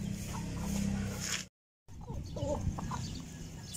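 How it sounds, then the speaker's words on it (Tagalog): Chickens raised as backyard poultry cluck and stir while feeding, a close, steady flock sound broken by a brief gap of silence midway. "busy-busy yung mga manok"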